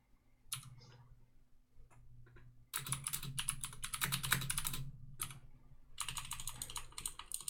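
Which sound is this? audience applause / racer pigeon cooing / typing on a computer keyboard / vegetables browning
typing on a computer keyboard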